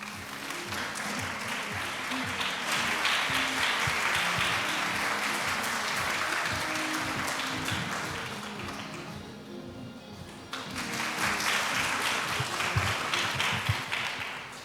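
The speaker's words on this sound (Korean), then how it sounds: "이강덕 시장님 앞으로 나오실 때 큰 박수로 환영해 주시기 바랍니다" An opening ceremony audience at Handong University welcomes the Pohang mayor with a long, loud round of applause that dips briefly, then swells again with renewed clapping.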